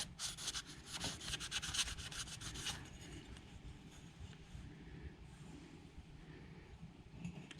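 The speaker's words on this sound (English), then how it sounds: "we'll just keep going and we'll go finer and finer and hopefully get a nice polish on it" Abrasive rubbing against an Australian opal carving during polishing with progressively finer grits, heard as close, faint scratchy strokes, more intense and rhythmic at first, then settling into a softer, steady rub.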